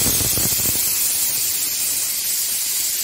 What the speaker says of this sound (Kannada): ಇದು ವಿಸಿಲ್ಸ್ ಆಯಿತು.